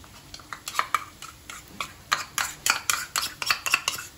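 A spoon stirs ginger garlic paste into browned onions in a pan for a prawn dish, giving a rapid series of sharp metallic scrapes and clinks with an uneven rhythm, close and clear, with no talk.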